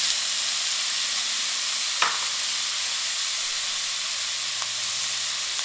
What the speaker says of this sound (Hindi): सब्ज मिर्च और बंद गोभी हमारी अच्छे से फ्राई हो चुके हैं।